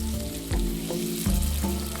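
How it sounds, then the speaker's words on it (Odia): Chicken for biryani fries in a hot pan, giving a loud, close sizzle with a few stirring scrapes and clanks repeating at irregular intervals. "ଚିକେନକୁ ଭଲ ଭାବରେ କଷନ୍ତୁ"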